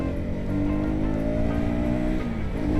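A KTM Duke 250 motorcycle pulls hard in fourth gear, its engine note rising steadily in pitch through a sustained, loud buzzing drone heard from the rider's position with wind noise underneath.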